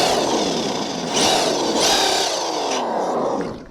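A Mattel Justice League Batmobile toy plays its electronic engine effect, a steady revving drone with two brief louder surges as if the throttle is blipped, close and fairly loud, fading out at the end.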